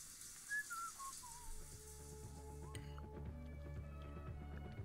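A Sims 4 character named Kunibert whistles a short, wandering tune, faint and thin over a quiet in-game backdrop, with a light clink and soft game ambience beneath.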